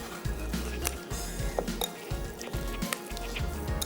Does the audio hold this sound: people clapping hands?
no